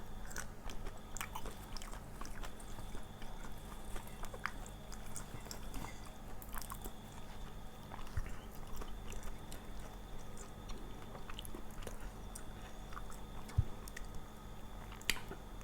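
Someone eats a spicy Isan-style raw beef dish, soi ju, chewing quietly and steadily close to the microphone, with faint crunches and small clicks over a low background hum and no talking.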